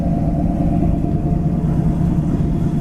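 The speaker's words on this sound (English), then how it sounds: "It's got beautiful dual exhaust," A 1980 Pontiac Trans Am with dual exhaust idles steadily, a low even rumble close to the car with no voices over it.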